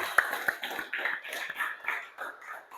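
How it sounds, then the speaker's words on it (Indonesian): A classroom of pupils claps hands together, a short burst of scattered, uneven claps with a few sharp louder ones, fairly soft and with no talk over it. "Tepuk tangan untuk kita semua."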